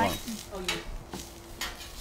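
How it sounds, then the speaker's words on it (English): Food sizzles and fries in a pan, with stirring and utensil clinks against it while a voice briefly talks over the cooking, the hiss steady and close throughout. "You hear that sizzle?"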